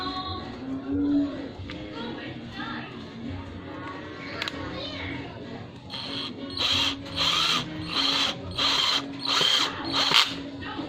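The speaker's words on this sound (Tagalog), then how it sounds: "Gagrinder na natin yung ulo para medyo" Grinder shaving down a small screw head while fitting a handle to a grass-cutting tool: close, rhythmic bursts of high whining grinding in the second half, after quiet talk and handling noise.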